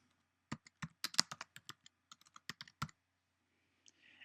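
Quick typing on a computer keyboard, a close burst of about twenty crisp key clicks over two and a half seconds, followed by near silence and a faint final tap.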